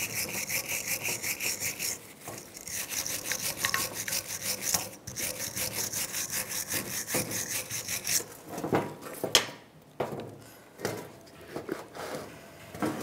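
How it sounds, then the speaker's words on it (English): A wire brush scrubs rust off the front brake caliper bracket of a 2002-2005 Chevrolet Trailblazer, making steady rapid back-and-forth rasping strokes, close and continuous, then breaking into a few separate harder scrapes near the end. "Take a wire brush and just clean up this rust."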